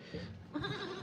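Goats bleat in two short, wavering calls at moderate distance on a cold, rainy night. The calls sit over steady background hiss.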